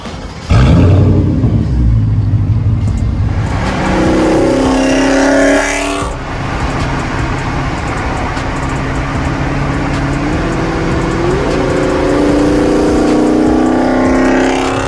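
A Mercedes E55 drives toward a mountain, its engine a loud, steady drone close by that rises and shifts in pitch as it accelerates through the gears, with no talking over it.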